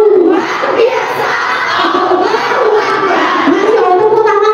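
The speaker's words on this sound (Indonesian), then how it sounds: "Masih tepuk tangan dulu ya" A group of mothers and children at a parenting school session shouts and cheers loudly together, a dense sustained crowd roar of many voices with no distinct clapping.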